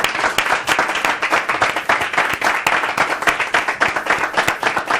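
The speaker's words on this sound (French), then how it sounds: "Il est important d'applaudir. Public, s'il vous plaît." Studio audience at a TV magazine show claps in an energetic, clearly rhythmic burst, individual hand claps standing out sharply as the applause stays loud and unbroken.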